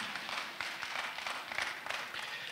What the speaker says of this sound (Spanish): Para el aplauso de ustedes.